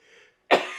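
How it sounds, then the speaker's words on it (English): A single sharp cough bursts out close and loud after a faint murmur and a brief pause, trailing off into a rough exhale, from someone on a road-trip vacation by car. "Well, you better take care of that cough."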